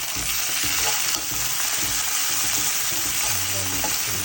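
Tomato sizzles and fries in a hot pan for a Tamil crab gravy, a steady loud hiss with occasional scraping stirs, no talking.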